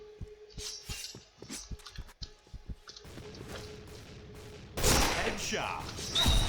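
A rapid-firing shotgun in the shooter game Point Blank lets off a run of sharp, clicky shots, then heavier, louder blasts and noisy bursts crowd together toward the end, with a voice talking over parts of it.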